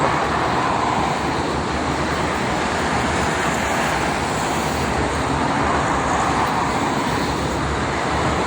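Busy traffic on the Jakarta-Cikampek toll road on a Monday morning, a dense continuous roar of cars and trucks passing close by, loud and unbroken.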